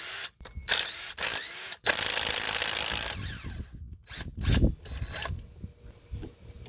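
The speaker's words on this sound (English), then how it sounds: "now I'm going to go ahead and pop the compressor off." A hand ratchet backs out 10 mm bolts holding a car's R-134a A/C compressor, with bursts of close clicking and metallic ratcheting broken by short pauses and tool clatter.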